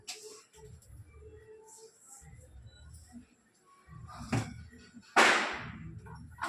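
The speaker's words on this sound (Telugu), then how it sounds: "ఇక్కడ రెండు నెలల దాకా టపాకాయలు కాలుస్తూనే ఉంటారు" Firecrackers burst during a drawn-out festival season: two sharp cracks a second apart, the second louder with a lingering crackle, over a low background murmur.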